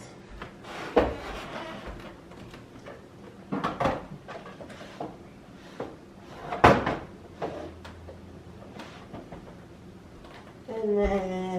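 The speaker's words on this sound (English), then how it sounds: "or you can slide out the drawer" A drawer slides out of a clear plastic bead storage box on a bead desk, giving several short, close plastic knocks and scrapes spread across a quiet room, with faint voice-like murmurs in the background.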